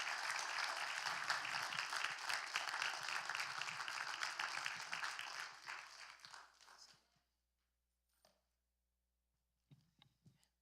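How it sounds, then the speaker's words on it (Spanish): Audience applause welcoming Dr. Lucas Márquez to a church worship service, a dense sustained clapping that runs for about seven seconds and then cuts off, leaving near silence with a few faint scattered noises. "vamos a recibir con un fuerte aplauso desde Chile al doctor Lucas Márquez"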